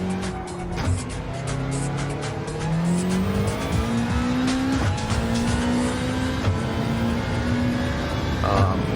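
A race car engine in a Gran Turismo 7 race revs high, its pitch climbing through repeated gear shifts, loud and continuous, with occasional tire squeal.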